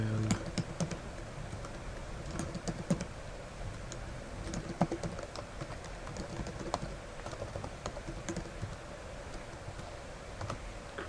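Computer keyboard typing while creating a new account: steady, fairly close clicking keystrokes in irregular bursts over a low background hum, with faint bird cooing in the background.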